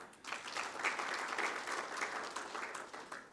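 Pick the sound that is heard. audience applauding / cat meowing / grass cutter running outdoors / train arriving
audience applauding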